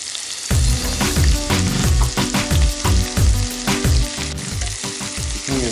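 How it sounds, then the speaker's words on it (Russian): Sliced onion frying in a hot pan, with loud, continuous sizzling broken by rhythmic stirring clatter and scraping. "Кладу лук и обжариваю его"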